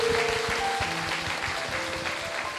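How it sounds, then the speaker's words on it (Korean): A congregation at a church meditation festival claps together in a short burst of applause indoors. The clapping is moderately loud and over within a few seconds. "우리 박수할까요?"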